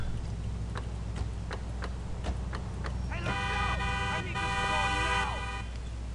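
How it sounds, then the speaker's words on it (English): A car horn honks in the video game LCPD:FR, a sustained blare arriving partway through over steady engine rumble and regular ticking, fairly close and moderately loud, with no speech over it. "There's no need for all that honking."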